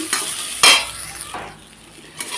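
Greens frying with crushed ginger and a little nigella seed, heard as soft sizzling broken by a few sharp stirring scrapes and clinks of a utensil against the pan.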